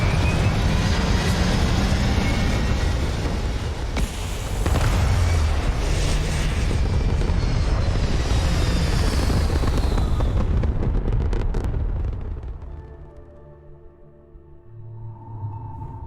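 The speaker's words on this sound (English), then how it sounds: "Engines fire." Spaceship engines fire for take-off in Starfield, a massive, continuous roaring rumble with booming surges that holds loud for about twelve seconds before fading to a quieter hum.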